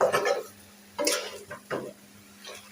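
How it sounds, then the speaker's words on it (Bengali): Fish pieces and onion fry in a pan, making a steady hiss of oil that is broken by a few sharp scrapes and stirring bursts. The pan is close and fairly clear, and no one talks. "দুই পিস মাছ আর মাথা পেঁয়াজ দিয়ে ভেজে রেখে দিয়েছি অল্প করে রান্না করলাম"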